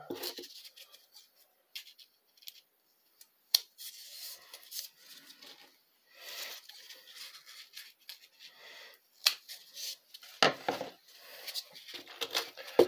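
Foam backer rod for carbon fiber stainless blowgun darts is cut in half, heard as scattered short snips and crisp clicks close by, irregular and separated by quiet gaps, with no talk.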